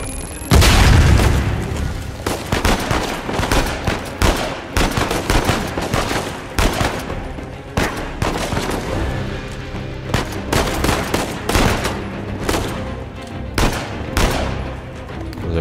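Rapid bursts of gunfire and heavy booms from an Uncharted 4 shootout, loud and dense, with repeated sharp shots and blasts crowding the whole stretch and no talk over them.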